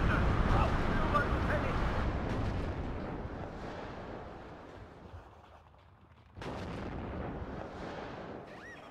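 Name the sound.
artillery fire in a tank video game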